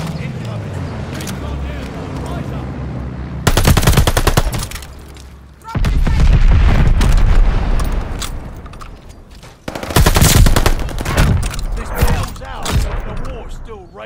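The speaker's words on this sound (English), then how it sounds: "Allies called a bombing run. Incoming!" Call of Duty Vanguard multiplayer match on the Numa Numa map during a bombing run: heavy explosions boom in loud bursts amid rapid machine-gun fire and scattered shots, with game voice callouts over the chaos.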